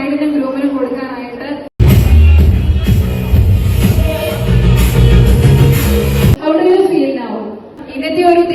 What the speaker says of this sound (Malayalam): എല്ലാവരും ഇന്നത്തെ ഈ ഒരു ഡേ സെലിബ്രേറ്റ് ചെയ്യാൻ റെഡിയാണെങ്കിൽ നല്ലൊരു കൈയടി തരാം